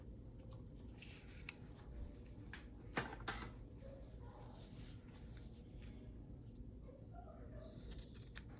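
Scissors trim excess paper from a scrapbook journaling piece, faint soft snipping and rustling close by, with a couple of sharper cuts among low background noise.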